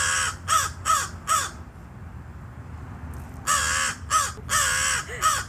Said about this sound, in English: this crow is going crazy